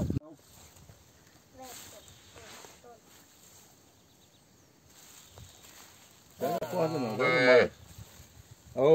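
A cow moos on a farm, one long loud close moo near the end, after quiet stretches with soft voices talking in Portuguese and faint insect chirping in the background.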